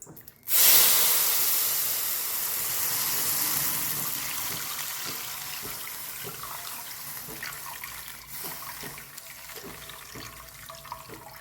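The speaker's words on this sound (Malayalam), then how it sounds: "ഇതിലേക്ക് പാല് ഒഴിക്കാം രണ്ട് പാക്കറ്റ് പാല്" Milk hits a hot pan with a sudden loud hiss, then settles into a steady sizzle that slowly fades, with a few faint clicks.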